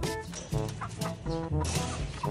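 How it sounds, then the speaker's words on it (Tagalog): Several chickens cluck close by in short, repeated bursts, overlapping one another with a busy, uneven rhythm. "Pakita ko sa inyo ilan po nating mga alagang manok."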